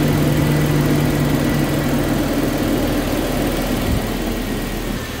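Engine idling after its engine oil was replaced with cooking oil, a steady, close mechanical drone with a low hum that holds evenly and eases slightly near the end, no voices present.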